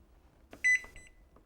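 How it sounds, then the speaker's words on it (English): A Zojirushi Home Bakery BB-HAQ bread maker gives a single short, bright electronic beep as its cycle starts, clear and close in an otherwise quiet room. "Press Start Reset and the home bakery will begin its cycle with a beep"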